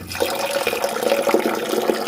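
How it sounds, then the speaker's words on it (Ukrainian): Boiling water poured carefully into a ceramic toilet bowl, a close, continuous splashing trickle with small bubbling spatters throughout. "Дуже обережно додаю кипяток"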